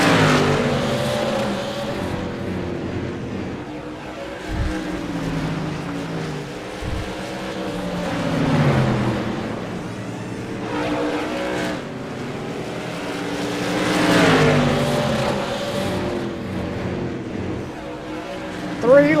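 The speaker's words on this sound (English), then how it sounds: "Jonathan McKinney and Blake Cluster duking it out for last here in the modifieds" Modified race cars in an iRacing game race at Southern National Motorsports Park, with a continuous layered engine drone that rises and falls as the cars pass, under steady race commentary.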